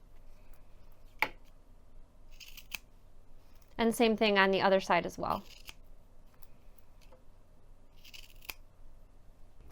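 Scissors trim fabric level with zipper tape in a burst of quick, crisp snips lasting about a second and a half, close to the microphone, with a few isolated clicks around it and a person talking.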